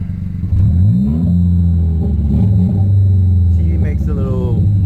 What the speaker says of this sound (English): give it a few revs so y'all can hear how. See, I have a Greddy exhaust, the Greddy Evo exhaust.